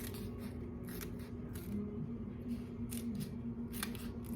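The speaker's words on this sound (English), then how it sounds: "Just use a pair of scissors, measure off 3/8 of an inch, and just cut that piece a little bit narrower." Scissors cutting EVA foam tape with a series of crisp, close snips in an uneven rhythm, about eight cuts over a low steady hum.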